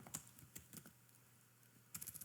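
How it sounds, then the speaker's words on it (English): Quiet bursts of typing on a computer keyboard, a few scattered keystrokes, then a pause, then a quick cluster of clicks, close and fairly faint. "Oh, what am I typing now?"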